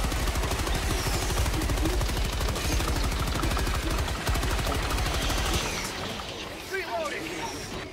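Rapid automatic gunfire from Helldivers 2, a fast, loud, steady stream of shots lasting several seconds before cutting off into quieter background noise, with people talking over it.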